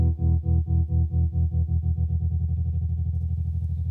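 A tremolo effect with its rate knob being turned up makes a loud, low, distorted tone pulse in a regular on-off wobble that speeds up steadily until the pulses blur into a fast flutter.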